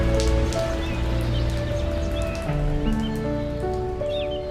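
Steady rain falls in a Hindi cartoon story about a poor family's home, a dense, even patter that fills the scene alone with no voices over it.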